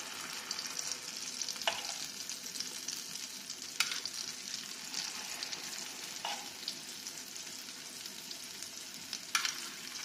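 Steady crackling sizzle of ricotta fritter batter frying in hot oil, continuous and close, with a few brief sharper pops.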